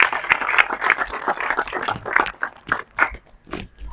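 An audience at a khilafat ceremony in Shadadpur applauds to welcome a guest ustad to the stage, a dense crackle of many hands that thins into a few scattered claps and then fades out.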